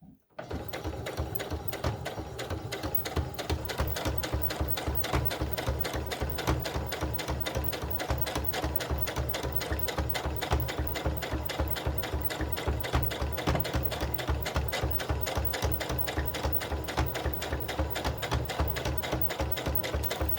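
A sewing machine stitches a doll bodice in one long steady run, its needle chattering in a fast, even rhythm of rapid mechanical clicks, close and fairly loud from start to finish.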